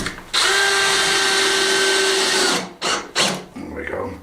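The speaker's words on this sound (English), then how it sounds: "I'll put one in this side anyway, since I've drilled the hole." A power drill drives a screw into reclaimed timber while building a chunky farmhouse kitchen, a loud, steady whirring run of about two seconds that stops abruptly, followed by short bursts and someone talking.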